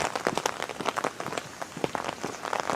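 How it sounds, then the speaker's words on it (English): Heavy rain patters densely and close on a surface, a busy irregular crackle of drops that stays fairly quiet and steady throughout. "I knew it was going to rain, but this much."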